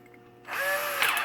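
A power drill spins up abruptly after a quiet moment, whining steadily at close range as it bores a hole for a stop-motion puppet armature.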